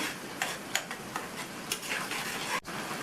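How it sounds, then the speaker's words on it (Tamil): A thick chutney bubbles and sizzles steadily in a pan, with soft pops and ticking bursts, no voices. "இப்போ சட்னி நல்லா கொதிக்க ஆரம்பிச்சிருச்சு."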